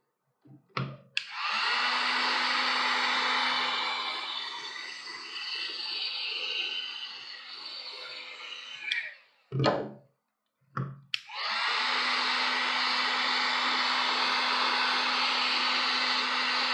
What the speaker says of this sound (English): I'm going to use a heat gun. This is a Drill Master heat gun. It has two settings, low and high. I'm going to put it on high.